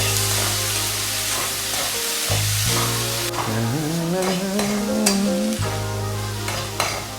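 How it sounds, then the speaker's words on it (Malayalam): Onions fry in a hot pan with a steady sizzle, while a spoon scrapes and stirs them in irregular clatters over the crackling oil. "ഇതിൽ നമ്മൾ സവാള ഇട്ടു. ഇനി ഇതൊന്ന് ചെറുതായിട്ടൊന്ന് ഫ്രൈ ആവട്ടെ."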